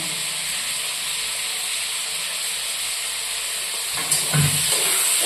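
Grated ginger and cashew nuts fry in a pan on a gas stove, giving an even, close hissing sizzle that runs steadily, with a brief clatter of stirring near the end.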